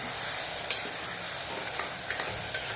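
A spoon stirs eggplant pieces for an eggplant and valor bean curry in a hot pan, with a steady soft sizzle and a few distinct scraping clicks against the pan, close and alone.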